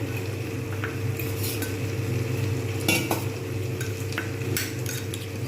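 A spoon scrapes and stirs potato and capsicum curry with tomato sauce in a pan, with a steady soft sizzle and occasional metallic clinks, close and alone.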